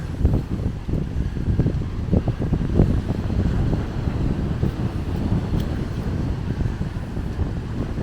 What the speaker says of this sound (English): And I get up here and the wind is whipping out of it.